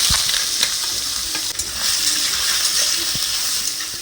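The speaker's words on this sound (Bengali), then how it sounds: "কড়াই আমার গরম হয়ে গেছে, আলুটা ভেজে নেব, তার জন্যে তেল দিয়ে নিচ্ছি।" Potatoes frying in hot oil in a kadai, a loud, dense, continuous sizzle with a few sharp clicks and scrapes from a spatula, no speech.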